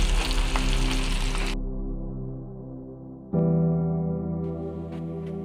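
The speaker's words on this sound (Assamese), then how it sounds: "পিঁয়াজখিনি প্ৰথমতে ভাজি লম এইখিনি অলপ ৰঙচুৱা পৰালৈকে ভালকৈ ভাজিব লাগিব" Finely chopped onions fry in a pan for a jackfruit curry with broiler chicken, giving a steady close sizzle over a low hum; the hiss drops out briefly, then resumes strongly.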